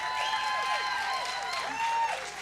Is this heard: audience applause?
yes